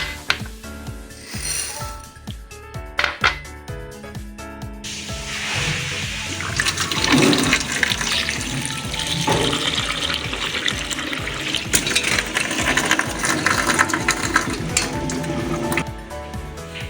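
Lentils for khichuri being washed give continuous water sounds: splashing, swishing and pouring that grow denser and steadier after the first few seconds, with no talking.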